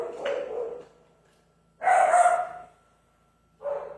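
Dogs barking at a home during a family worship gathering: two separate bursts of barking plus a brief yip at the start, close and fairly loud, with no talk over them.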